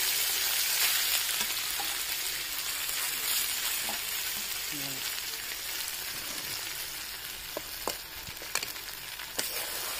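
Fish seasoned with garam masala fries in a pan for a traditional Konkan village recipe: a dense, even sizzle that eases slightly over time, broken near the end by a few sharp spitting pops, with no voices.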